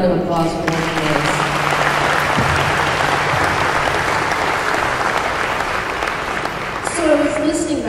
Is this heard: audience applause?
yes